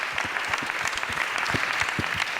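Live audience at an evening festival show applauds the on-air translators with a steady, dense wash of clapping, loud and sustained throughout with a few sharper individual claps standing out.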